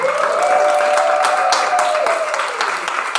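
Audience at an open mic poetry night claps and cheers for a poet, a dense steady wash of applause that holds loud throughout with a sustained whoop riding over it.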